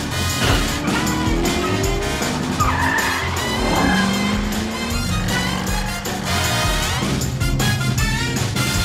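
The cartoon Cat Car from PJ Masks skids away with squealing tires over a revving racing engine, loud and continuous with sliding pitch sweeps and a busy background score.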